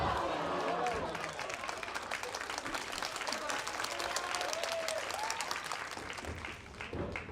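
A pro wrestling crowd claps and cheers steadily, with scattered shouts rising over dense, sustained applause. A commentator talks over it.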